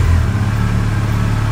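A Yamaha FJR1300 motorcycle engine idles steadily while warming up before an oil change, a close, constant low rumble with no speech.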